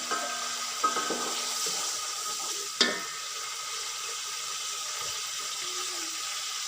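Onion and tomato frying lightly in a pot with a soft, steady sizzle, punctuated by two distinct utensil knocks from stirring, no speech.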